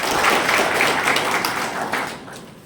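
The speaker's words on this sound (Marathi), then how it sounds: "सर्वांनी त्यांच्यासाठी टाळ्या आहे" Applause from an audience at a political party meeting for a minister, a steady, dense wash of clapping that holds throughout and fades slightly at the end.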